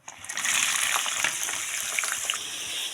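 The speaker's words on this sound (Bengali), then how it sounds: "এই তেলেই আমি এবার গাজর আর বিমসটা একসঙ্গেই ভেজে নেব" Carrots and beans fry together in hot oil in a pan, giving a steady close hiss and crackle with small spits throughout.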